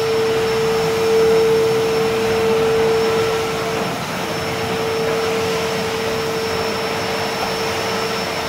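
A vacuum cleaner runs over an epoxy flake floor with a loud, steady whine and a constant tonal hum that holds throughout with no break.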